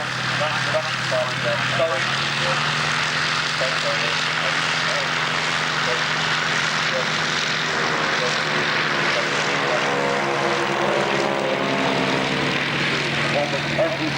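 Propeller aircraft at the 1996 Middle Wallop air show flying a display, wing-over and stall turn across the airfield; steady loud engine drone with shifting pitch throughout, under constant crowd and commentary voices.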